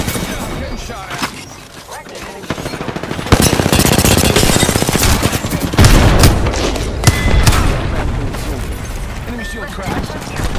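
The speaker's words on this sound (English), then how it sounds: "Yeah, I'm getting shot at." Rapid bursts of automatic gunfire and impacts in a video game firefight, loud and close, with heavy stretches of sustained shooting.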